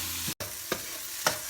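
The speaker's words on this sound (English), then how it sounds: "Now you have to toss it for 4 to 5 minutes until the onions turns reddish color." Onions fry in a hot pan for dal makhani, a steady sizzle broken by a few short scraping stirs and tosses, close and fairly loud.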